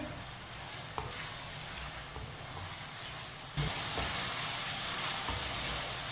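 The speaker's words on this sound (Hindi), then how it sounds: "चिकन डाल लेंगे। चिकन को मिक्स कर लेंगे।" Pieces of boneless chicken are tipped into a hot pan and mixed; a steady sizzle with a light knock partway through, then a sudden louder burst of frying that stays strong to the end.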